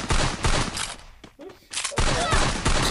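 Loud, rapid gunfire crackles in bursts during a Free Fire mobile battle-royale match, with a brief lull in the middle before the shooting resumes at full intensity.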